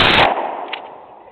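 A single 12 gauge shotgun blast fired close by, a loud sharp crack followed by a fading echo tail lasting about a second.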